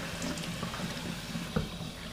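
Water runs steadily from a tap while aquarium substrate is rinsed clean, a continuous close splashing wash with one brief louder splash near the end, and no voices.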